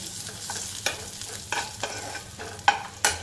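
Garlic frying in a pan for a plain okra dish, stirred with repeated scraping strokes over a constant close sizzle, with about six distinct spoon scrapes and no one speaking.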